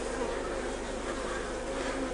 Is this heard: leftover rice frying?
no